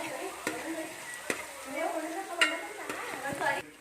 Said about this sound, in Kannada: ಮೆಣಸಿನ್ಕಾಯಿ ಹಾಕಿದ್ಮೇಲೆ ಈರುಳ್ಳಿ ಹಾಕೋಬೇಕು. ಚಾಪ್ ಮಾಡ್ಕೋಬೇಕು. ನೀಟಾಗಿ ಫ್ರೈ ಮಾಡ್ಕೋಬೇಕು.